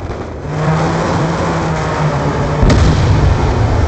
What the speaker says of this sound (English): Be advised, hostile Warthog inbound.